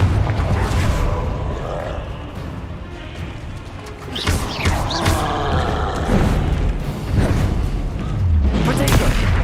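Explosive spell blasts from a magic duel in Hogwarts Legacy: repeated booming, crashing impacts in a loud, dense game mix, with heavy low rumble and sharp bursts layered over continuous battle noise.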